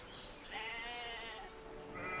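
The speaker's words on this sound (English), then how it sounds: "I'm gonna grab those sheep." Sheep bleating in the strategy video game Civilization VI, a couple of wavering, nasal calls standing out over a steady game soundscape at moderate level, with no talking.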